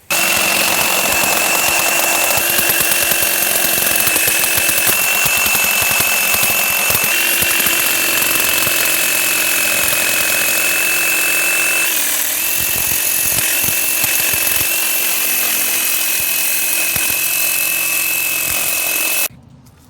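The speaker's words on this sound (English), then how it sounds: "This is called a rifle hone, where you actually are going to rifle it with the honing tool." Honing tool spinning inside engine cylinders during a rifle hone, a loud steady high-pitched whine and grinding buzz running continuously before cutting off abruptly at the end.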